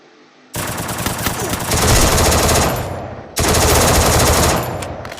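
Bursts of rapid automatic gunfire in the video game Free Fire, two long loud rattling volleys separated by a short gap, with a faint voice at times.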